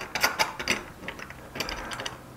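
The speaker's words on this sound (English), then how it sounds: "I'm gonna pop a screw in there to keep it in place." Screw being driven into a speaker plate while fitting Jantzen binding posts, giving short bursts of close ratcheting, gritty mechanical clicks in two clusters with a brief pause between.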